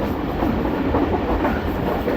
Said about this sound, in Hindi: अभी रतियाल रेलवे स्टेशन की तरफ पाकिस्तान एक्सप्रेस बढ़ रही है